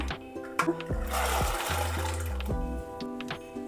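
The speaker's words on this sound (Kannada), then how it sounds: "ಸ್ವಲ್ಪ ನೀರು ಕಾಯಿಲಿ ಅವರೆಕಾಳನ್ನ ತೊಳೆದಿಟ್ಕೊಂಡಿದ್ದೀನಿ ಅವರೆಕಾಳು ಹಾಕ್ಕೊಳ್ಳೋಣ" Washed field beans (avarekalu) tipped into a pot of water on the stove, giving a short watery splash and pouring rush that lasts a couple of seconds, with no talking.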